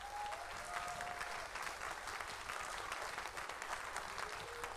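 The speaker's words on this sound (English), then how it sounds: "can we get a big round of applause for your parents?" Audience at an evening percussion concert gives parents a steady round of applause, dense even clapping that holds at a constant, fairly distant level throughout.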